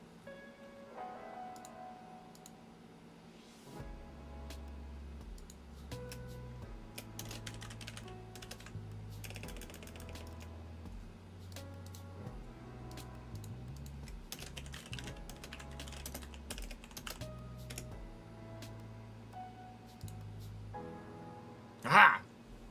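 Computer keyboard typing while logging in to iRacing, a string of light, fairly close key clicks running through the whole stretch over a steady low hum, with a louder burst of keys near the end.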